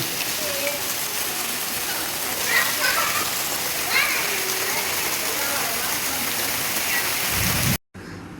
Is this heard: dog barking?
no